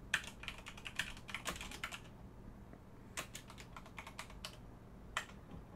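Rapid keystrokes on a computer keyboard while entering metadata in Adobe Premiere Pro 2022, crisp clicking bursts separated by short pauses, close and fairly quiet with no voices.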